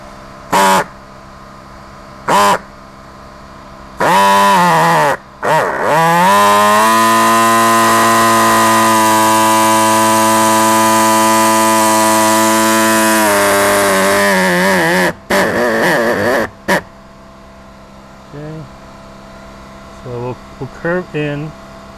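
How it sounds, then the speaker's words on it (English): An air saw cuts a tire carrier mount on a GX470, a loud buzzing rasp that runs for about ten seconds after short bursts, with brief spurts and quieter tool noise afterward. "So what we're gonna be using is this saw right here. It is an air saw"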